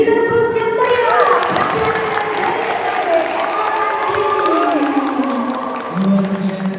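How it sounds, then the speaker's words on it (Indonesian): The audience at a National Children's Day celebration in Batu claps and cheers, with a dense, sustained wash of applause, whoops and children's shouts throughout and voices rising above the crowd. "berikan aplaus yang meriah"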